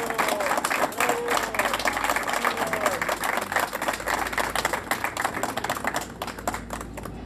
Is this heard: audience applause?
yes